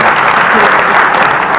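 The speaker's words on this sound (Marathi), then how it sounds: "त्यांच्यासाठी जोरदार टाळ्या होऊन जाईल" An audience at an award ceremony breaks into loud, dense applause, a continuous wash of clapping from many hands at close range.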